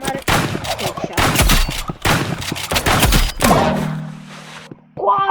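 Rapid bursts of gunfire ring out in the video game Rivals, several loud clustered volleys with brief pauses between, then a lone sustained tone and a final shot.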